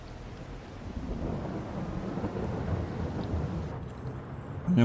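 Steady rain with rolling rumbles of thunder in a Farming Simulator game set on a Carpathian farm during corn harvest, a dense broadband wash that grows slightly louder near the end, with no talking.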